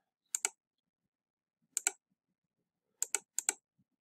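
A computer mouse clicks in quick double taps, four crisp pairs spaced through a quiet room, close and alone.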